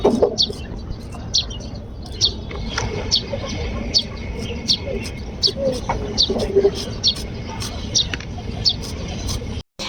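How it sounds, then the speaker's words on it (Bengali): Small birds chirping near a home veranda, repeated sharp high tweets at a steady rhythm with some soft cooing, fairly close, over a low background of household noise and faint knife-cutting sounds. "আমি যখন বারান্দায় এভাবে কাটাকুটি করি আমার আশেপাশে পাখিগুলো কিচিমিচি করে ডাকতে থাকে"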